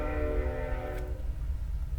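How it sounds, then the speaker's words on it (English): A train passes in the distance, its steady horn-like tones holding for about a second over a constant low rumble that continues alone afterward. "Hear the train?"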